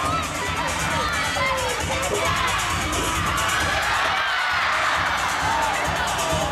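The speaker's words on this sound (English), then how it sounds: "Let's give him a big cheer, everybody." A crowd at an outdoor show in Toronto cheers and shouts continuously, with children's voices high in the mix and a host talking over the noise.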